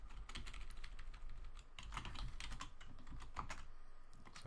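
Close, quiet typing on a computer keyboard, a continuous patter of key clicks in uneven bursts with brief pauses, no voices.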